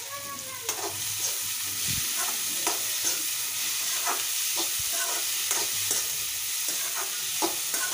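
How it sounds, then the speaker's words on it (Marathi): Peas, capsicum and cabbage sauté in a hot pan for tawa pulao, with a steady sizzle and repeated scraping and stirring strokes of a spatula, close and continuous. "वाटाणा, ढबू मिरची, कोबी, ह्या भाज्या पण परतून घ्यायच्या।"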